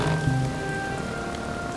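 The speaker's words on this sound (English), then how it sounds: "By now, the rain was threatening to drown me." Steady rain pours onto a surface as an effect in a spooky audio drama, a dense, continuous hiss of drops with a faint low tone underneath.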